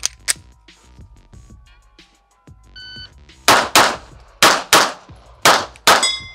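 Shots from a Walther PDP compact pistol at range targets ring out as sharp, loud reports, about seven of them in a quick irregular string, after a quieter stretch of metallic clinks and ringing steel hits.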